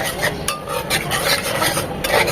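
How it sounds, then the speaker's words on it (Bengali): A spoon scrapes and stirs spices frying in a pan for eggplant curry, with repeated rasping strokes over a low sizzle. "মশলাগুলো খুব ভালোভাবে কষিয়ে নিতে হবে"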